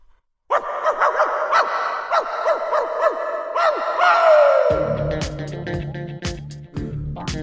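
Dog barking in repeated sharp bursts, close and loud, a quick run of about a dozen barks that ends in a whine, followed by a rattling, percussive clatter.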